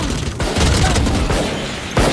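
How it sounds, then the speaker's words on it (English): A flashbang detonates in the tactical shooter Valorant, a loud, sharp burst that floods the space and rings on for about a second and a half, followed by another hard hit near the end. "Flashbang!"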